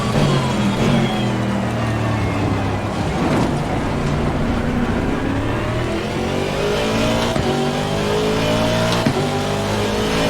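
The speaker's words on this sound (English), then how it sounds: "that sound of that car is just beautiful" A 2019 Aston Martin race car engine roars in Assetto Corsa Competizione on a rainy Spa-Francorchamps, loud and continuous, rising and falling through repeated gear changes and revs.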